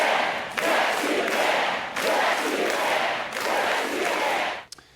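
A large crowd of supporters at a North Carolina political rally cheers and roars in three sustained waves, loud and dense, before cutting off abruptly.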